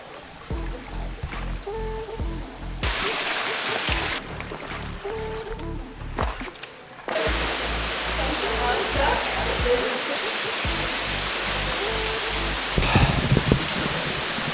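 Steady broadband rush of a waterfall in Stellenbosch, continuous and fairly loud throughout, with a few brief cuts to quieter passages and low rumbling layers underneath.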